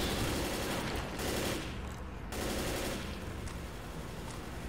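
Gunfire in the co-op video game Left 4 Dead, a dense continuous rattle of rapid automatic shots with short pauses, loud and filling the whole stretch without talk.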